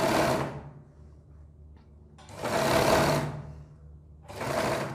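A sewing machine stitching a collar, heard close in three short whirring bursts with quiet gaps between them.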